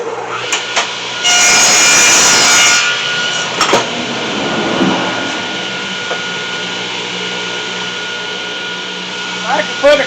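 A power saw cuts wooden boards to 32-inch lengths for a raised garden bed, one loud close cut of about a second and a half, followed by clunks, handling noises and quieter workshop sounds.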